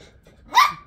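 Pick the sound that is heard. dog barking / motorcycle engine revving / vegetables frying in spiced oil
dog barking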